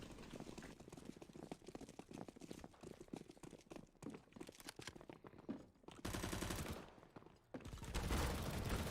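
Machine gun fire in CS:GO, with rapid rattling bursts between quieter stretches, then two loud sustained bursts near the end.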